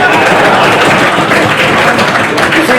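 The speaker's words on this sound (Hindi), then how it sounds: "और तालियों की गूंज से पूरा हॉल गूंज उठा।" Dense, steady applause from an audience filling a hall at a community gathering, loud and continuous throughout.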